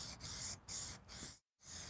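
Three bursts of hissing from a spray paint can, each roughly half a second long, separated by brief gaps, with a short silence before a final burst.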